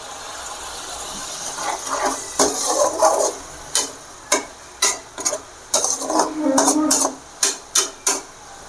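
Metallic clinks and scraping of a utensil stirring dried chilli gravy simmering in a pan, with irregular sharp taps and a soft background hiss, close by.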